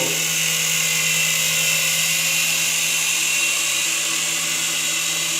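A Sym beginner RC helicopter hovers close by, and its rotor and motor give off a steady, loud high-pitched whine with no break and no speech.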